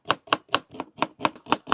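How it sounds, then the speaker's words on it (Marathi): Onion chopped with a knife on a board for a fish curry gravy: eight crisp, evenly spaced blade strikes at a quick steady rhythm, close and clear with no talking. "आपण आता ग्रेव्ही साठी कांदा कट"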